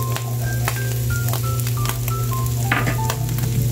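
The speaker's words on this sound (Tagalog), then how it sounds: "So, gisa-gisa ang ating wangba." Garlic sautés in a hot pan for Filipino-style sweet spaghetti, hissing with a loud, continuous sizzle that is joined by scattered light clicks and scrapes from stirring.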